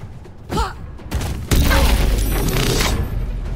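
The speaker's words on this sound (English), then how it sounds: "We're going to throw a void bomb." A void bomb grenade in Baldur's Gate 3 bursts with a sudden deep whooshing boom, followed by a sustained rumbling swirl that lingers for a couple of seconds, with brief voice-like sounds before the blast.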